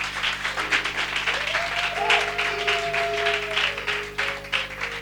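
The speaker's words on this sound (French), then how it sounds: "Acclamez pour elle quand même." An audience applauds a mother at a Mother's Day church service in Bingerville, with steady, dense clapping over about five seconds and a sustained tone held in the background.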